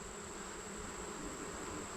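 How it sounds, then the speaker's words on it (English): Honeybees buzz during an August beehive inspection in a steady, continuous drone that stays fairly faint and even throughout, with no voices. "that little bee got stuck in his own propolis"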